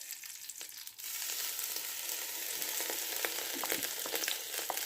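Dalda ghee heating in a pot on the stove for halwa, a close steady sizzle and crackle that starts softer and swells after a second, with scattered sharper pops throughout.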